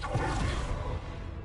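A Confringo fire spell cast in the Hogwarts Legacy video game: a loud, dense roaring whoosh that holds steady for over a second before tapering slightly, with no voices.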